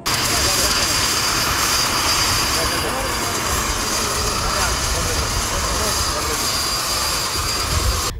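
A helicopter flying over farmland during spring sowing, a steady loud rotor and engine drone that holds for the whole stretch, with a voice speaking over it.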